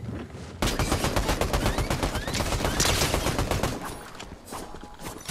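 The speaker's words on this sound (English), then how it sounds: "there's already gunshots going off" Rapid, dense gunfire erupts in a shooter video game, sustained bursts of automatic fire with overlapping shots and a few sharper reports, loud and continuous before easing slightly near the end.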